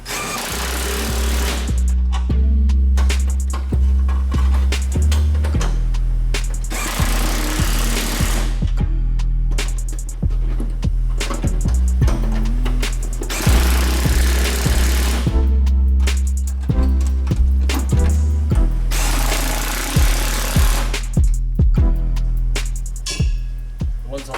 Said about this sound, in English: I'm just tightening these bolts